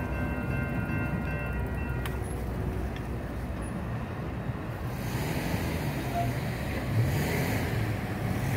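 A heavy Union Pacific freight train rolls steadily past up close at a railroad crossing, a continuous low roar with brief higher squeals, noisy and unbroken from start to finish.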